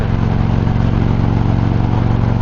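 A Victory Cross Country motorcycle engine runs loud and close in a steady, throaty drone, with a rhythmic low pulse and no voices.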